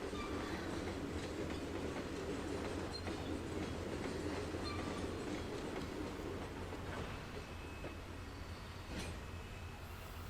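A loaded train in a video game rumbles along steadily with rhythmic clickety-clack from the wheels and occasional faint squeals, continuous and fairly close throughout.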